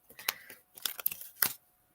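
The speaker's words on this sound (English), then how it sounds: "I'm just shuffling the cards to show you a card, Michelle." A deck of cards being shuffled by hand during a live reading session, producing quick papery riffles and flicks in two or three short bursts, close and fairly quiet, with no speech.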